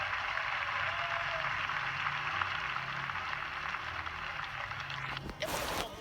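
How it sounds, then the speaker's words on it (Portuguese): A church congregation applauding, a steady wash of many hands clapping that continues evenly throughout, moderately distant, with a brief shift in the sound near the end. "Pode louvar a Deus com as palmas."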